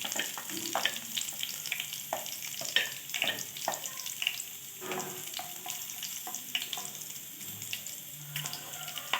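Whole spices, cinnamon, cloves, cardamom, fennel seeds and bay leaf, sizzling in hot oil in a pan, a lively crackling hiss with frequent sharp pops and stirring scrapes, close and steady.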